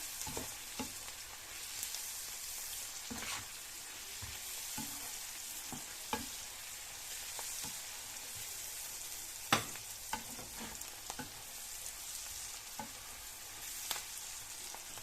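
Spices with turmeric, chillies and kalonji frying on a high flame for a lady finger dish: a quiet continuous sizzle punctuated by irregular spoon clinks and stirring scrapes, no talking.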